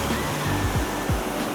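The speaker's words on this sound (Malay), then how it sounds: "Sungai" A river flows below the Matterhorn near a Swiss ski resort, giving a loud, steady broadband rush with low buffeting, like close water or wind.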